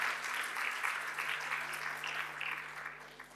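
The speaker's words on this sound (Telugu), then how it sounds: "చప్పట్లు కొట్టి కనపరచండి." Congregation applauding at an Easter church service, a steady dense wash of many hands clapping that holds for several seconds, fading slightly near the end.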